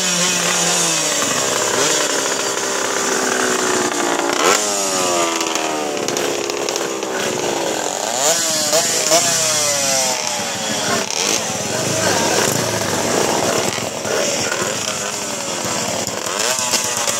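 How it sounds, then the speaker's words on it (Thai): Stock-engined Suzuki Crystal motorcycles with four-speed gearboxes race past, their high buzzing engines rising and falling in pitch continuously and loudly, with overlapping passes and shifting revs, and an announcer's voice faintly beneath. "เป็นการแข่งขันซูซูกิคริสตันนะฮะเครื่องเดิมประจำรุ่นนะฮะ"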